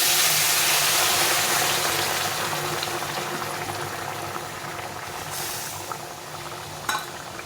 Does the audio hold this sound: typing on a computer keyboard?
no